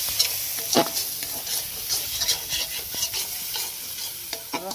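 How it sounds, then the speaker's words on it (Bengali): Ground coriander, cumin and Kashmiri chilli powder frying in a pan, a continuous close sizzle broken by frequent scraping stirs of a spoon, no voices. "এর মধ্যে ধনে, জিরে, কাশ্মীরি লঙ্কা গুঁড়ো আছে, এটাকেও ভালো করে ফ্রাই করে নেবো।"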